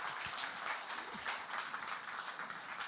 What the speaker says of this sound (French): merci encore une fois d'applaudir notre invité d'honneur